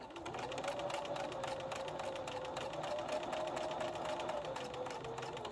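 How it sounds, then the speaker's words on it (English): A sewing machine stitches fabric for a cooling neck wrap in one steady, continuous whir at moderate level, heard close and alone. "lift the presser foot, turn the fabric, and stitch on the same stitching line."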